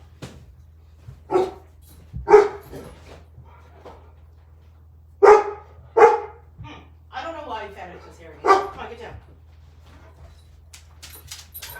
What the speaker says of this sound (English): I have to see what she's barking at